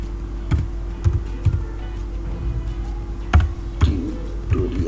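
Keys on a computer keyboard are tapped while a spreadsheet workbook is renamed in Excel, giving sparse, irregular clicks over a steady low electrical hum, with no voice.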